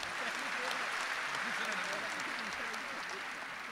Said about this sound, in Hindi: ताली बजाने की जरूरत नहीं थी